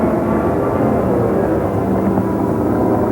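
Engine drone of a Glasair kit airplane flying a roll and a half on a 45-degree upline during an aerobatic demonstration, a steady loud broadband roar with no breaks throughout.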